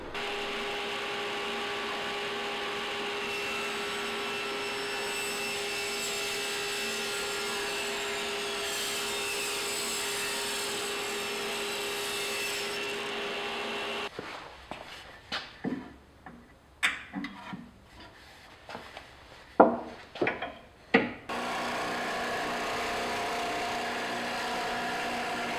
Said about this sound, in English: To speed up the turning process, I remove the corners from the leg blanks with the table saw.